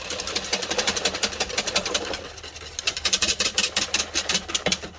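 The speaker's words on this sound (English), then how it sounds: "And you take your whisk, and whisk it up real good." Wire whisk beating yogurt starter into milk inside an Instant Pot, a fast clattering scrape that grows more rhythmic and pulsing in the second half, close by and with no talking.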